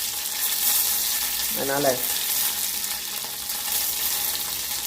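Yellow mustard seeds frying in hot oil in a pan, a loud continuous crackling sizzle close by, briefly overlapped by a short spoken word.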